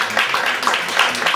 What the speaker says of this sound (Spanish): dar un fuerte aplauso a nuestra pintora de las emociones, Mila Moreira